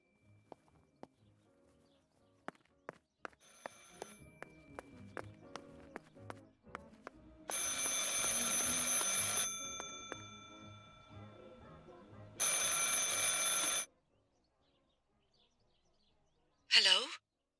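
An old-style telephone rings in the game Martha Is Dead, two long, loud bell rings separated by a pause, preceded by scattered clicks and faint ambience and followed by a short squeak.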